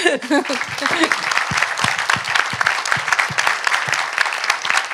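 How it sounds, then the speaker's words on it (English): An audience applauds after an architecture lecture, a full, continuous crowd clapping that starts abruptly with a brief voice at the onset and stays loud and even to the end. "perhaps I will just ask you for a big round of applause"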